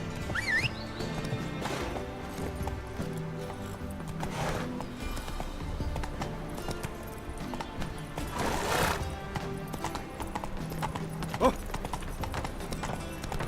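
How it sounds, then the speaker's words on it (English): Horse hooves clip-clop steadily through a busy scene in the video game The Witcher 3, with a whinny near the start, all over continuous game music and ambience. "Whoa there, Roach"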